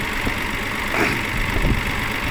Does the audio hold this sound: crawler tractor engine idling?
yes